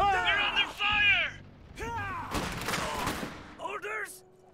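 Bursts of gunfire and explosive shots in the real-time strategy game Iron Harvest ring out between shouted unit voice lines, coming in a few clustered volleys at moderate loudness.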